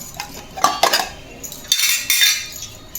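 Steel utensils clink and clatter against one another in several bursts, close by, with no talking.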